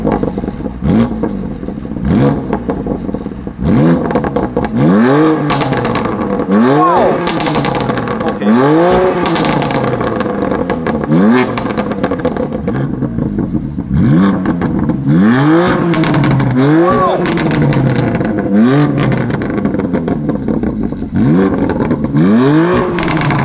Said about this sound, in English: Let's now listen to the M4.